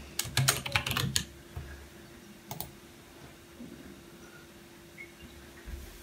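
Keys tapped on a Mac keyboard while entering a password: a quick burst of close, crisp clicks at the start, a pair of presses later, then near silence with faint scattered taps.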